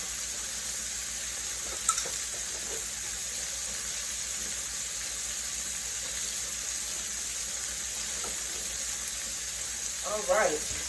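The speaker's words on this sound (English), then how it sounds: "I think I'm going to wash my tongs off because they still have like a little bit of raw liver on there" Water runs steadily from a kitchen tap as tongs with bits of raw chicken liver on them are washed, a soft continuous hiss with a few faint clinks.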